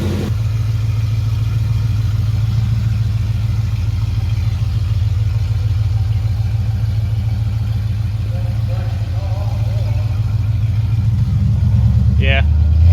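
A 416 stroker LS3 V8 with new headers and an exhaust leak idles steadily up close, a loud low rumble that holds even throughout, with people talking over it near the end.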